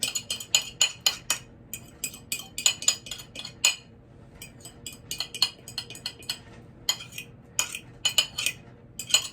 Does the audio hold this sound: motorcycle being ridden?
no